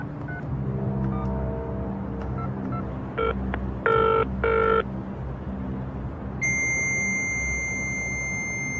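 A telephone line to the MOD: a few short electronic dialing tones, then a steady high-pitched ringing tone over a low background rumble.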